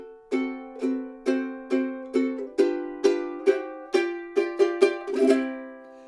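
Guitar strumming chords in a steady waltz pattern, about a dozen clear ringing strums in a regular three-beat rhythm that grow slightly denser toward the end, played alone at moderate volume.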